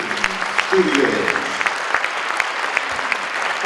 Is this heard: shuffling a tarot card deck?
no